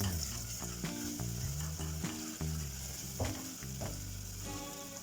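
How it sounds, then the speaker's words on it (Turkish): Minced meat with tomato paste, salt and mint sautés in a pan, giving a steady close sizzle broken by scraping stirs and clinks of a utensil, with no talking. "Güzelce kavuruyorum."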